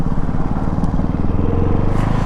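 The engine of a 2024 Ducati Hypermotard 698 RVE motorcycle drones steadily and loudly while braking, a close, continuous throbbing roar mixed with wind.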